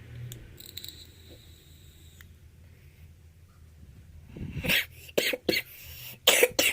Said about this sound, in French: Bon, le produit me fait un peu tousser